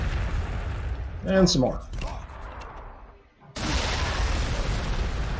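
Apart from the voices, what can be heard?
frag missile explosions in the video game Warhammer 40,000: Sanctus Reach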